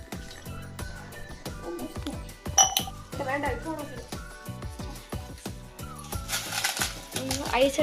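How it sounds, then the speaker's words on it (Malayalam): Ice cubes are pulled from a tray for iced coffee, making a string of hard clinks and clatters against plastic and glass, uneven and close, with talk running underneath. "ഐസ് എടുത്തോണ്ടിരിക്കുകയാണ്, പറ്റുന്നില്ല ഗൈസ്."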